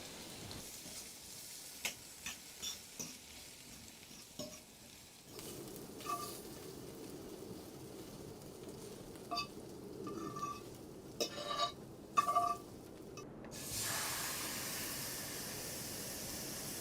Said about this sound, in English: you can already hear it sizzling a lot more